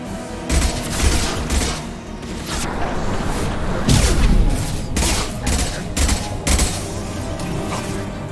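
Heavy gunfire in a video game, rapid volleys and booming bursts rolling on continuously at close range, with occasional voices faint beneath the shooting.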